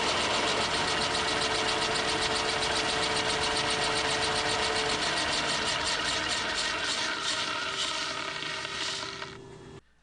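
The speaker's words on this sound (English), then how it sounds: "So you can see here when I turn on the motor, you'll see that left shafts start to spin" A Kearney & Trecker milling machine motor runs with its shafts spinning, giving a steady loud whirring drone that holds for about nine seconds before winding down and cutting off.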